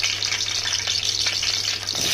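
Tempering spices crackle and fry steadily in hot oil for a cauliflower curry, a dense continuous sizzle with no talk.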